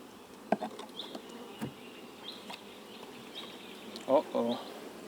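Honeybees in a beehive affected by colony collapse disorder, a steady faint hum of insect buzzing with occasional louder passes close by, plus brief bursts of other sounds near the end.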